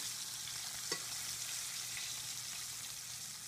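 A fish fillet for tacos frying in a pan, browning on the bottom before flipping, giving a dense, steady hiss of hot oil, close and even, with one brief tap partway through and no talking.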